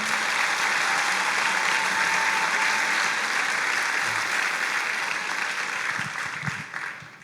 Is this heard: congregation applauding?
yes